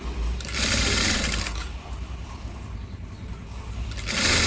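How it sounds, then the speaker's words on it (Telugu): A sewing machine stitches a neck strip onto a blouse, its motor running in two loud bursts at the start and end with a quieter, slower stretch of stitching between. "ఆ పట్టీ మీద కుట్టు వేసుకుంటూ వచ్చేయాలి"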